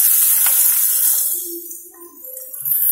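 Dry red chilies, green chili and onion hit hot oil in a home kitchen, giving a bright steady sizzle and hiss that eases midway, with a few faint clinks alongside.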